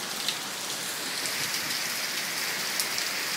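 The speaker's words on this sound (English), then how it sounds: "it's raining like crazy here" Heavy rain pours down without a break during a flash flood in New Cumberland, Pennsylvania, a dense hiss of drops hammering surfaces, close and loud throughout.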